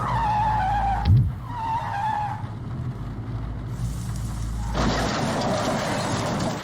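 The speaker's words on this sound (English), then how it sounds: "I made a simple animation where you, the player, sucks at drifting and you fall off the cliff." In a video game, a car drifts with loud tire squeals and skidding, then plunges off a cliff, with engine noise, a sudden rushing burst and continuous mechanical noise up close.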